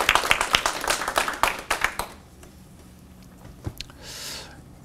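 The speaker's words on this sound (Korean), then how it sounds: "한번 감사의 박수 드리겠습니다" Congregation applause during a Korean church service, close, brisk clapping from many hands for about two seconds that then stops abruptly, leaving a quiet room with a few faint stray sounds.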